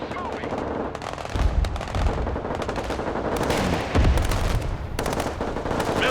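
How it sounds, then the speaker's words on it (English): Mortar and artillery fire in the military strategy game Broken Arrow, with heavy booming impacts over steady machine-gun chatter and continuous battlefield noise, loud throughout. "Mortar ready to fire."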